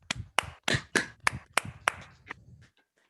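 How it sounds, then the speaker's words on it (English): Participants in an online webinar clap into their open microphones, about nine sharp, separate claps in an uneven rhythm that fade after two and a half seconds, sounding close and slightly clipped. "please turn your microphones on for a moment because I'd like to give them all a big round of applause."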